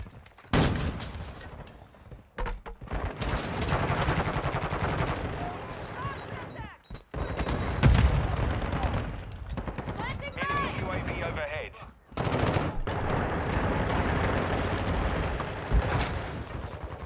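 Video game gunfire in an online shooter match: dense bursts of rapid shots and automatic fire, loud and close, with short gaps between volleys and players talking over the shooting.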